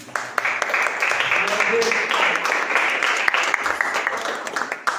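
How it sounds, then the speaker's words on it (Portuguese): Sustained applause and clapping from a church congregation during a worship service fills the room, dense and steady, with voices blended into the crowd noise. "As palmas louvam a Jesus"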